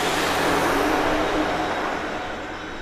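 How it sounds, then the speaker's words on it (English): Embraer Praetor 600 business jet passing overhead at Grand Cayman airport, a loud, steady broadband engine roar that gradually fades over a few seconds. "So looks like that was an Embraer Praetor 600."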